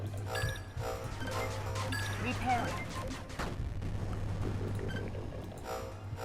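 Units in the strategy game 8-Bit Armies fire repeatedly amid booming explosions and metallic clinks, a busy cluttered battle mix with bursts of gunfire, while a voice talks over it at times.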